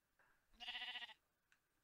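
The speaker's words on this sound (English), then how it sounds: "How's a sheep in here?" A single sheep bleats in Minecraft, a short wavering cry about half a second long, clear but fairly quiet against a faint background.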